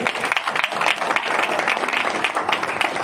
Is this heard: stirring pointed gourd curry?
no